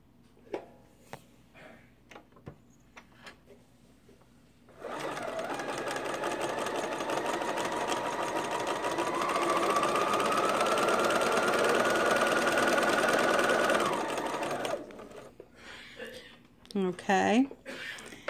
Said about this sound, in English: So you step on the foot pedal and let it sew.